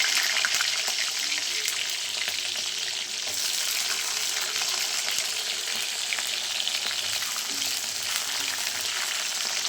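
Small shallots and asafoetida fry in hot oil after mustard seeds have popped, giving a steady, close, bright sizzling hiss that runs unbroken with no talking.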